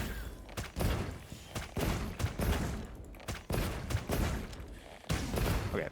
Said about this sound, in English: So let's use the tracer real quick.